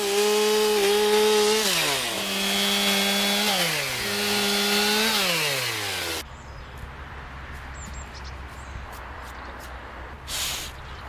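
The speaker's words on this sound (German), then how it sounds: "Wenn ich mit der Kettensäge arbeite" Chainsaw cutting wood for a sculpture, its loud engine revving up and down in stepped pitch changes for several seconds before cutting off to a quiet background with a few faint knocks.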